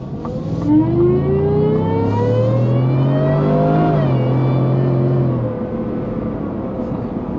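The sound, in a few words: supercharged pickup truck accelerating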